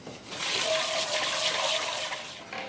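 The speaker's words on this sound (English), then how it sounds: "I'm going to quickly wash out my pot" Running water rinsing out a cooking pot at a sink, a steady loud splashing rush that holds for a few seconds before easing off, close up with no talking.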